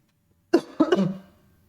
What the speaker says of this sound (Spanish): Tengo un poquito de tos todavía.